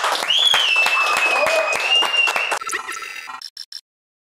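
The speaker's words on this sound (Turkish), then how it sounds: "bir alkış" Crowd applause at a Turkish rap show, loud clapping with shouts and a sustained high whistle or cheer on top, cutting off abruptly before a few final sparse claps.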